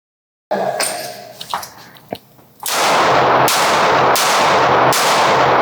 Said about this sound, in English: the Smith & Wesson 351 PD, which is a 7-shot airweight snub-nose revolver chambered in .22 Winchester Magnum